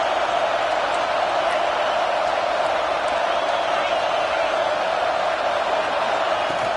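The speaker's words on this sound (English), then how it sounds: "It's early, but this crowd is fired up. Listen to this noise here." A football stadium crowd roars in a steady, dense wash of cheering noise that holds at full level for the whole stretch, with faint whoops poking through the din.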